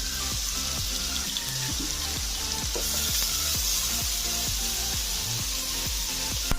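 Chopped ginger and green chili frying in oil for aloo paratha, a steady close sizzle with a regular tapping of a utensil stirring the pan, no talking.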